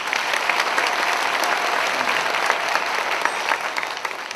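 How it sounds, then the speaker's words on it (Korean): A large congregation claps together in sustained, dense applause at an evening worship service, steady and loud throughout with no break. "다시 한번 박수 한번 해주세요."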